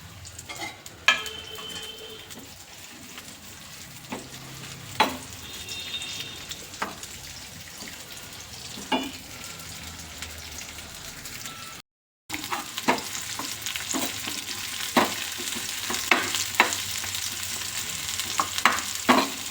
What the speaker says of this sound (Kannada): ಈಗ ಮೊದಲಿಗೆ ನಾವು ಈರುಳ್ಳಿ ಹಾಕ್ಕೊಬಿಡೋಣ ಫ್ರೆಂಡ್ಸ್